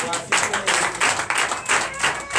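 A church congregation claps in rhythm during a Sunday service, sharp hand claps arriving in a regular pulse about every fraction of a second, close and fairly clear with no talk over them.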